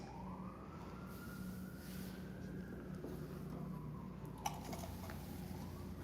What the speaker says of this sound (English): I hate talking with those sirens.